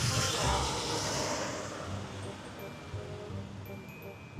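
Strong wind roars and buffets a nearby microphone, loudest at the start and then easing into a steady rushing blow.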